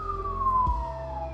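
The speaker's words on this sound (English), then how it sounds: "police sirens. Hopefully it's nothing serious." A police siren wails in a big city downtown, a single long falling tone heard from a distance over low traffic rumble, with a brief thump in the middle.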